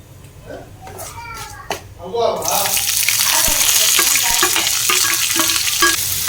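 Onions dropped into hot oil with curry leaves for a potato masala, bursting into a loud, steady sizzle after a couple of seconds of quieter stirring; a voice speaks over the early part.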